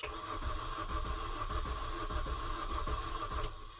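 A car engine cranks steadily with a rapid, rhythmic churning from the starter motor, close and loud, continuing without catching.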